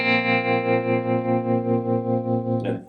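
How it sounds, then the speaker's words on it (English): Electric guitar with a tremolo effect set to eighth notes at 150 BPM, playing a sustained distorted chord that pulses steadily in even, rapid volume swells, then cuts off abruptly near the end. "On the bridge he has a trem set, and I have it set to 8th notes at 150 BPM."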